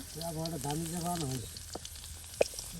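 Chepa shutki dried fish with ground and paste spices fries in a pan with a soft, faint sizzle. A voice talks over the start, followed by scattered pops and crackles.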